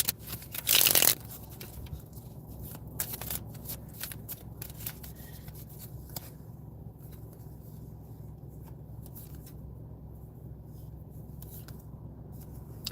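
A deck of tarot cards shuffled on a table: a short, dense riffle burst near the start, a second brief riffle, then soft card handling and light tapping over a quiet room.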